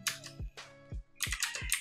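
Quick bursts of typing on a computer keyboard, several crisp key clicks close together with short pauses between runs, near and fairly quiet.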